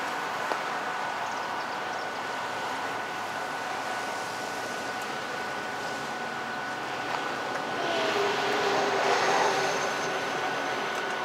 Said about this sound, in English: Right now, I'm about to record a train.